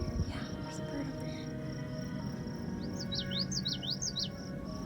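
A bird chirps near a fence and phone pole outdoors, giving a quick run of repeated high tweets late in the clip over steady background noise, with people talking nearby.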